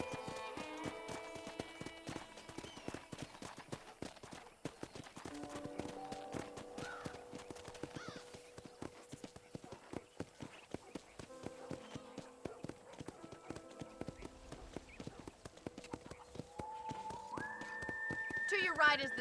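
Steady clip-clop of horse hooves at a walking pace in Red Dead Redemption runs throughout, with game music and occasional chimes layered over it.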